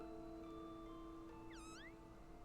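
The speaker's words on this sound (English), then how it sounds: "Bud Girl is a pink tulip who will meow at you." A pink tulip video game character gives a single short synthetic meow, rising and falling, faint over a steady tonal game soundtrack hum.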